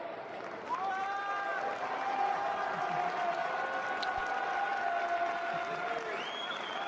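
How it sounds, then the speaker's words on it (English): Crowd applause for tournament finalists at a Yu-Gi-Oh! YCS Bologna final watch party swells and holds steadily, mixed with scattered cheers and a few high whistles over a noisy room. "let's give up a round of applause for our finalists"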